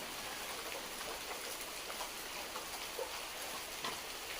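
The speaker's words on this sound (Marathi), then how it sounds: "बारीक बारीक पाऊस पडता" Soft, steady patter of light rain falling continuously on surfaces, with a few slightly louder drops standing out now and then.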